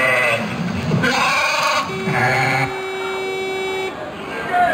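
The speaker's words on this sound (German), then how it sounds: "das Schaf" Sheep bleating, several drawn-out nasal calls in a row, close and fairly loud, with a background murmur.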